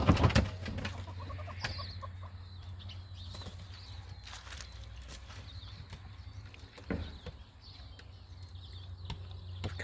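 Farm chickens cluck and rustle nearby, with occasional wing flaps and scattered pecking knocks over a steady low hum, the loudest burst at the start and no talking.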